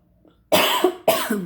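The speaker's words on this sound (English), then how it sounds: "I need to cough." Two sharp, forceful coughs close to the mic, one right after the other, following a brief quiet moment.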